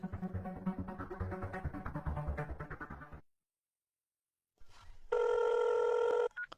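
A telephone rings once, loud and electronic, with a sharp tonal ring lasting about a second after a stretch of silence, following muffled talk and clatter.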